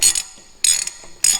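A ratchet loosening the tight rear axle nut on a 2006 Harley-Davidson Road King, three crisp bursts of metallic clicking pawl strokes close up, separated by short pauses.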